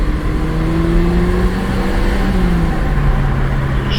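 A 2016 Ford Fiesta SE engine pulls loud and close from inside the cabin on a test drive, its steady drone climbing in pitch as the car accelerates.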